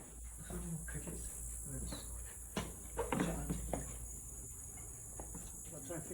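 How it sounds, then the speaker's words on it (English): Steady, high cricket chirping drones through the whole stretch, with soft footsteps, shuffling and light handling noises close by and a few brief voices. "Oh, crickets."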